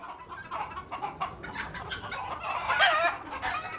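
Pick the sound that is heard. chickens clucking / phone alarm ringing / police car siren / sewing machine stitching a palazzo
chickens clucking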